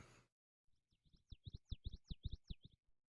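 Distant, muffled bird call in a jungle video game with a low-pass filter applied: a rapid run of chirping notes, faint and soft, repeated a dozen times before fading out.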